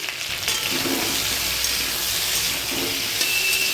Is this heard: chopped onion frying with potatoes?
yes